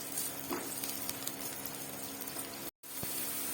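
Onions frying in refined oil in a pan, giving a steady, fairly quiet sizzle with faint crackles throughout and a brief dropout near the end.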